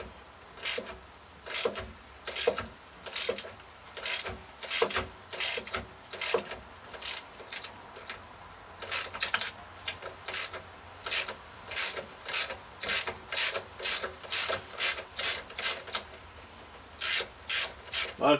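Stubborn bolts on a long-unserviced 4-stroke carburetor being worked loose, heard as a close series of sharp rasping clicks repeating in an even rhythm, with brief pauses between runs.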